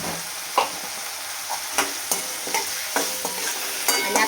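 Tomato sautés in oil in a pan over low heat with salt and turmeric, a steady sizzle broken by repeated scraping stirs of a spoon, close and clear.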